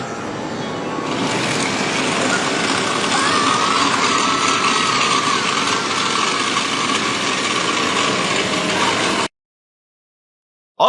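A power drill whirs continuously at a steady high pitch for several seconds, close and loud, then cuts off abruptly into silence.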